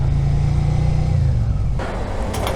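Suzuki SV650 motorcycle engine pulling hard and revving, a loud close rumble that climbs in pitch, then drops to a rougher, busier drone with wind and clatter near the end.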